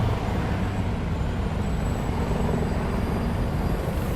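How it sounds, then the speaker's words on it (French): Police helicopter circling over a French city, a steady distant rotor drone blended with broadband street and traffic rumble, continuous and moderate throughout the short stretch, no talk. "Il y a l'hélico qui tourne, j'entends."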